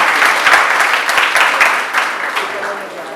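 A crowd claps steadily, loud and close, with a voice speaking over the applause.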